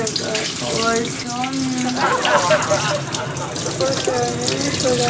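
Tap water runs continuously and splashes while a gutted, scaled sea bream is rinsed under it, with voices talking over the flow.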